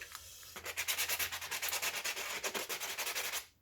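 Diamond sanding pad rubs quickly back and forth across a flat surface of pounamu jade to remove tool marks, making close, rhythmic scratchy strokes at a steady pace with no voices.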